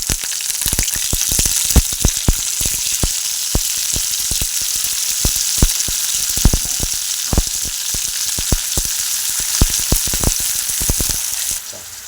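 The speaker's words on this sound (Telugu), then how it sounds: "ఇప్పుడు ఇందులో ఆయిల్ వేడైంది. మనం ఇందులో ఉల్లిగడ్డలు, పచ్చిమిర్చి," Onions and green chilies frying in hot oil, a steady bright sizzle with frequent crackling pops and spatters, loud and close throughout with no voices.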